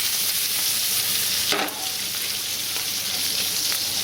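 Pancetta fries in a pan with a continuous bright sizzle and crackle, close and steady, briefly stirred partway through.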